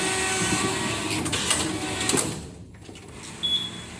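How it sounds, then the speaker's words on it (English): A flat knitting machine carriage runs with yarn across the needle bed, making a loud continuous mechanical whirring and clatter that drops away briefly near the end before a short whine returns. "We can find carriage move from left side to right side."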